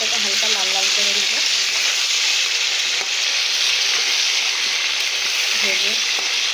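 Chicken korma frying in a pan gives a steady, loud sizzle throughout, with scraping stirs and faint background voice sounds near the start and end.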